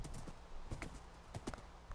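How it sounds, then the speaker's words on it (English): A donkey in the Minecraft video game, heard as a few short hoof-like clip-clop steps at moderate level over a steady background bed, with no speech over them. "There's a donkey right there."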